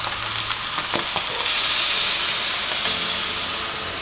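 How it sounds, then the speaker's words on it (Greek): Food sizzles in a hot frying pan, a steady close hiss and crackle that swells louder partway through and keeps going, with no talking. "Τα άκουσες πως τσιτσίρισε."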